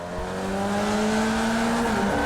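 Race car engines in the Flatout game scream at a race start, a loud sustained, rising roar of several cars accelerating together with steady whining tones.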